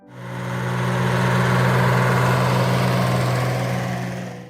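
A 1970s Oliver 1755 farm tractor engine runs steadily, giving a close, constant, droning hum with a strong low rumble that swells in at the start and fades at the end, with no talking.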